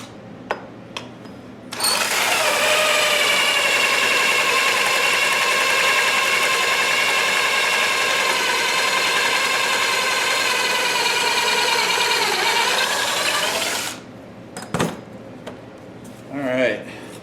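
A power driver drives screws into a wooden farmhouse table with a loud, sustained whirring run of about twelve seconds, then a few knocks and handling sounds as it stops.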